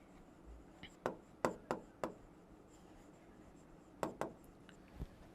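Pen strokes on paper while working a Class 12 accountancy cash flow problem, a quick cluster of five sharp scratchy taps followed by a pause and two more, close and quiet with no talking.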